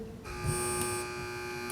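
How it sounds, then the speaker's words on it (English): A steady electronic quiz-bowl buzzer tone holds for well over a second at moderate level, its harmonics ringing continuously with no talk over it. "Teams, wait for the buzzer if you'd like to answer."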